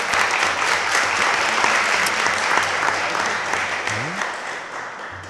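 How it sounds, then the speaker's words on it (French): Applause at a municipal council meeting for a newly presented youth council mayor, a dense, sustained wash of clapping from the room that eases slightly toward the end, with a brief voice near the close. "On va l'applaudir."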